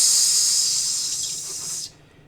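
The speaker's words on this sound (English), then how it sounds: "Kind of a sizzle in the air when he speaks." A loud, steady sizzling hiss for a tabletop RPG creature whose voice crackles with blue electrical flame, filling the air for nearly two seconds before cutting off sharply into quiet.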